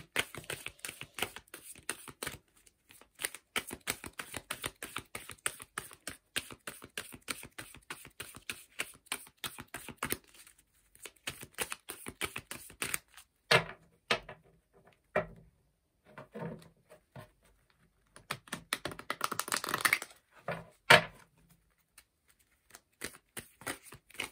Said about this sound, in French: Donc, je mélange les cartes.